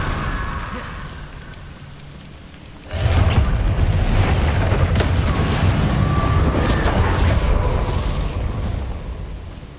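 Confringo and Incendio spells cast in the fantasy game Hogwarts Legacy erupt as a sudden heavy blast after a quieter stretch, followed by sustained loud roaring and crackling fire with scattered sharp pops.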